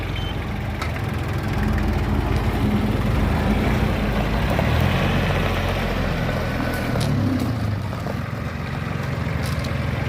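Mitsubishi MT 200 tractor with a tiller attached making a quick turn, its diesel engine chugging loud and close, a steady low rumble that swells slightly mid-turn.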